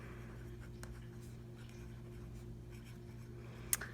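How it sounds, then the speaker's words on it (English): A pen writes on paper in a quiet room, with faint, soft scratching strokes over a low background hum and one brief sharp tick near the end. "So I'm also just going to write"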